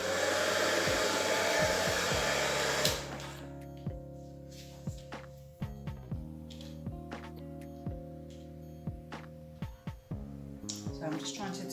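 Hair dryer blowing across an acrylic Dutch pour with a dark blue base, a loud steady whoosh for about three seconds that cuts off, followed by a series of quiet ticks and taps.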